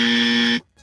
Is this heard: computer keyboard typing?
no